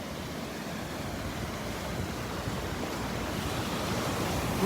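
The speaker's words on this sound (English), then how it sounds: "every once in a while we'll get a sequence of pretty nice waves here." Ocean surf breaks steadily on Delnor-Wiggins beach with a continuous broadband wash, roughly even in loudness and building slightly toward the end, with wind noise on the microphone and no voices.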